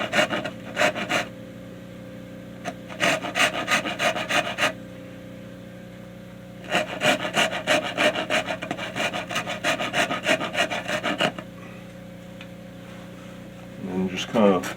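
A coarse rasp scrapes a wooden guitar neck heel in several bursts of quick, rhythmic strokes, loud and close, separated by pauses with a low background hum.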